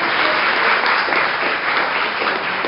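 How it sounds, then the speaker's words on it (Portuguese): A church congregation claps steadily during a worship service, dense, continuous applause that fills the room for a few seconds with no talk over it. "Você pode aplaudir ao Senhor"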